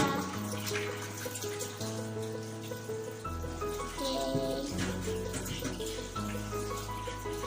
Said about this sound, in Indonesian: kita langsung saja membersihkan dengan air mengalir